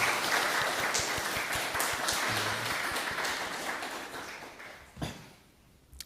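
A church congregation applauding together, a dense wash of clapping that holds steady then fades out over several seconds, heard from within the room with no talking.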